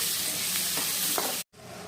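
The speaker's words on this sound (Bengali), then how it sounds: "আর এখন আমরা ততক্ষণই অবধি এটা কুক করবো যতক্ষণ না টমেটোটা গলে যায়" Tomatoes cook in oil for a Bengali-style egg curry with a continuous close sizzle and light stirring, then a brief cut to silence before the sizzle resumes.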